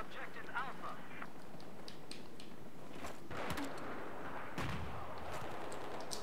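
Grenade launcher fire and blasts in the Battlefield 4 beta on PS3, a few booming reports around mid-clip with shooting and game noise over a dense battle background, and a voice faintly present.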